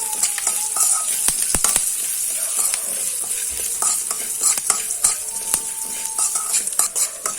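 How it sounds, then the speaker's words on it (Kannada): Garam masala spices, cumin and curry leaves fry over medium flame in a pan for a chicken curry, giving a steady close sizzle with frequent sharp scrapes and clinks of a stirring utensil against the metal. "ಹಾಗೂ ಗರಂ ಮಸಾಲೆ ಪದಾರ್ಥಗಳನ್ನೆಲ್ಲ ಹಾಕಿ ನಾವು ಹುರಿಯುವಂಥದ್ದು."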